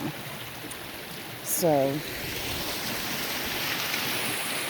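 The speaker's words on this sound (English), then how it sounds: "yeah, that's a lot of water running through" Floodwater after torrential rain rushing through a farm creek normally only inches deep, now about two feet, a steady broadband roar throughout with a brief spoken word over it.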